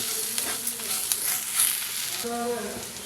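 Ivy gourd (dondakaya) with vangibath powder sizzles steadily in a pan while being stirred, with occasional utensil scrapes and taps over a constant frying hiss.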